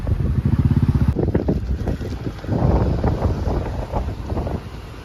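Wind at Rishikonda Beach, Visakhapatnam, on a sunny day, rumbles and buffets loudly against the microphone in uneven gusts, with a rhythmic thumping at first and no talk.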